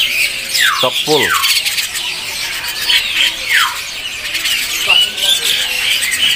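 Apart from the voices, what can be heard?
young white starlings squawking at bird market kiosk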